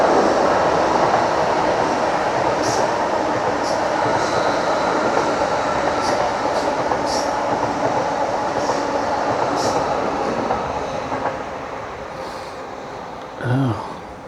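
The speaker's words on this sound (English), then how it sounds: "Oh, there's the train." A train rumbles past close by along the River Gipping between Needham Lake and Stowmarket, with a steady roar that fades toward the end, followed by a brief squeal.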